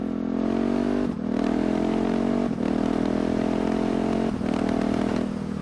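A KTM 690 SMC R single-cylinder motorcycle roars through a very loud exhaust while riding, a steady droning note broken by three quick shift dips, close and continuous.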